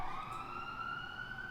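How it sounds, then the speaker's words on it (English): Sirens wail through the streets of Manchester, a steady rising tone sounding continuously and fairly loud, with no voices over it. "sirens everywhere in Manchester"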